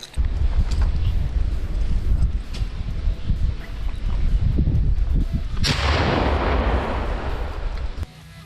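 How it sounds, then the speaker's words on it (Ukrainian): A hand grenade detonates while a soldier clears a shell crater during frontline fighting, a loud close blast burst near the middle over a continuous roar of distant artillery and gunfire. "От вже граната пішла на всяк випадок."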